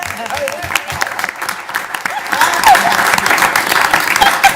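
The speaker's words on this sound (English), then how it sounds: "Everyone clap your hands." Audience at a city council meeting claps hands in a steady, lively patter, growing louder midway, with voices calling and cheering over the applause.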